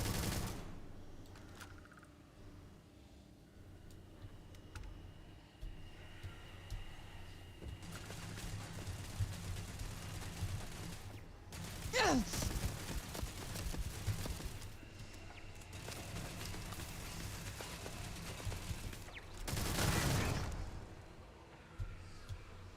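Turret gunfire in Starfield comes as sustained bursts of rapid shots amid game ambience, with a sharp sweeping whine near the middle and another loud burst close to the end.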